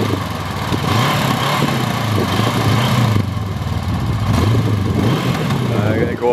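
A motorcycle engine idles and revs near the microphone, putting out a rough, uneven drone that sometimes dips and recovers and may pop from an air leak, and a person talks over the engine.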